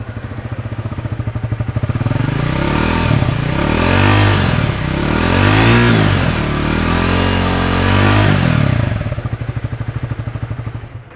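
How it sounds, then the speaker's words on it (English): A Triumph motorcycle idles with a lumpy exhaust note, then revs up and down in several loud, throaty swells before settling back to idle. "let's listen to the exhaust note"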